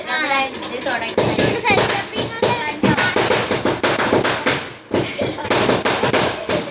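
Firecrackers bursting at neighbouring houses during the Vishu festival, a dense rapid string of sharp loud cracks and pops after a voice talks briefly at the start, with only a short pause before the bursts resume.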